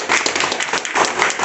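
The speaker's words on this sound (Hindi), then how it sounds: "आज रक्षाबंधन के त्यौहार पर उन्होंने कितनी बढ़िया से ताली बजाई" Dense, continuous applause and clapping from a group celebrating a hospital patient's discharge on Raksha Bandhan, loud and close, with a murmur of voices mixed into the steady clapping.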